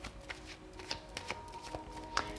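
Tarot cards are shuffled by hand in soft, quiet riffling bursts of papery flicks, close and alone with no voice.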